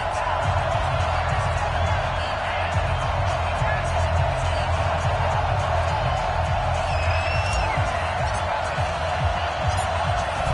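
Dense, steady stadium crowd roar filling the background of a Madden NFL 20 video game matchup between the New England Patriots and Jacksonville Jaguars, loud and continuous throughout with no distinct peaks.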